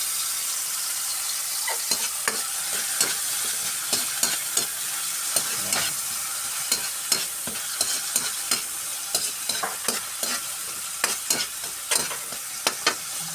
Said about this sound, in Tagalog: So mainit na siya, ilalagay na natin kamatis.